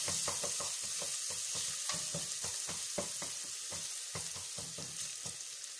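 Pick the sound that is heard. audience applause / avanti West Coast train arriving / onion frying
onion frying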